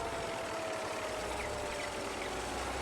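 Tractor engine idling in Farming Simulator 22, a constant low rumble with faint knocking texture that stays at a steady, moderately loud level with no changes in pitch.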